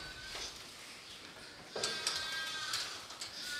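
Lambs bleat in a pen during lambing season on a farm, with a few clear, fairly close calls standing out from the quiet background, most of them in the second half.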